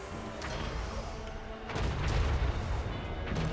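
Friendly-fire explosions in a video game battle: a continuous rumble of booms and gunfire-like blasts that grows heavier and denser partway through.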